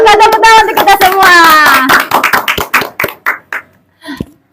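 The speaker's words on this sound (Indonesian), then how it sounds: "tepuk tangan untuk kita semua" A small counseling group claps hands together, a run of sharp separate claps that trails off into scattered final claps, overlapping a sung or chanted voice at the start.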